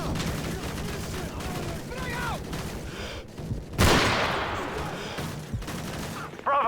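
Sustained machine gun fire in the video game Call of Duty: Modern Warfare 3, dense and continuous with a loud burst or blast near the middle, mixed with battlefield noise and voices.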